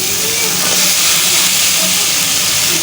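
Spices and masala frying in a pan, kept at a steady, loud hiss and sizzle throughout with no pauses.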